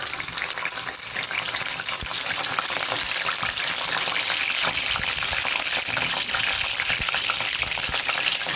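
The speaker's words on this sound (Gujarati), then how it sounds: "અહીંયા આપણું તેલ ગરમ થઈ ગયું છે તો પહેલાં લસણની કળીઓ ઉમેરી દઈશું" Garlic cloves fry in hot oil for a Kathiyawadi guar bean curry, producing a steady, bright crackling sizzle close up with faint scraping, continuous and with no voices.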